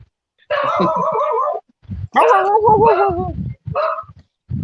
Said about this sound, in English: y'all can hear my dogs